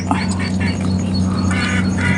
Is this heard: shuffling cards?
no